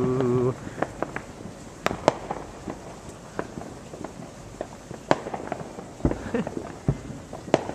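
Fireworks bursting above trees on Independence Day, a steady run of sharp cracks and booms at irregular intervals, some distant and some closer, with brief talk near the start.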